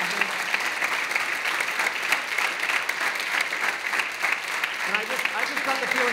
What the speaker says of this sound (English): Can we give a round of applause to our district board?